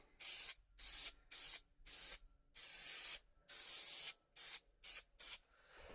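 Repeated short bursts of spray adhesive hissing from an aerosol can onto a subwoofer part, about ten quick blasts of varying length with brief gaps between them, close up and without any talking.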